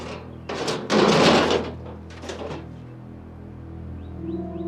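A car door is opened and shut nearby, with a few short clunks and rustles followed by a quieter rumble of the car's interior.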